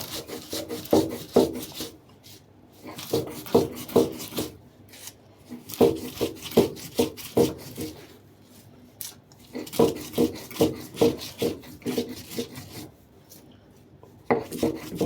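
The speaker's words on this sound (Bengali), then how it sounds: "আলুগুলো এখন আমি বেটে নেব।" Fried potatoes being ground into a paste by hand, likely on a grinding stone, giving repeated close scraping and rubbing strokes in bursts with short pauses, no talking.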